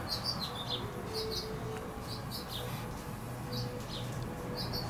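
Small birds chirp in short high bursts, scattered across the clip over steady outdoor background noise, beside a hummingbird nest with a dove walking nearby.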